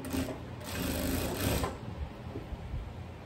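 A sewing machine stitches the armhole seam of a butterfly-sleeve blouse with a V back, running steadily and fairly close, then easing into softer, intermittent stitching.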